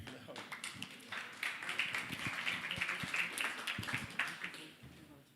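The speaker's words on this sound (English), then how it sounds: "so please, an applause for Gary" Audience applause for a man named Gary at a live talk event about trust: dense, steady clapping from many hands sustained for about five seconds, fairly close, with some voices mixed in.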